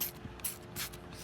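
Three quick, soft hissing spritzes from a spray bottle of water onto a diecast toy car, evenly spaced, with faint clicks of the trigger between them.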